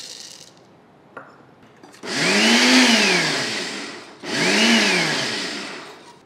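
A mixer grinder grinds roasted dal for rice-flour laddoos in two loud whirring bursts. Each burst rises in pitch as the motor spins up, holds for a couple of seconds, then falls away, with a short quieter gap between them.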